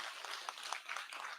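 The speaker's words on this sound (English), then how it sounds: "we all have to give a big round of applause for Dr. Dipankar Nandi for doing such a grea" Audience applause at an international immunology conference in India, a soft, distant and continuous patter of many hands that stays faint and even throughout.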